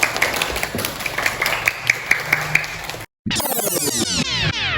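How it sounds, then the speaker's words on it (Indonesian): A class audience applauds before group 2's mini drama at a school, rapid steady clapping for about three seconds, then a brief silence and a sweeping musical sound. "Tepuk tangan untuk kelompok 2"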